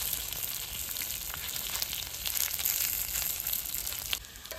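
Jowar masala idli pieces fry in a pan, giving a steady, close sizzling hiss with faint crackles throughout and a small bump near the end.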